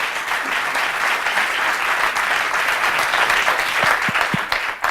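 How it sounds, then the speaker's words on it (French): A French-language conference audience applauds the panelists of a talk on sustainable marketing, with steady, dense clapping filling the room and a few sharper claps near the end. "Vous avez le droit de les applaudir."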